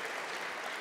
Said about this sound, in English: A big round of applause for Dave.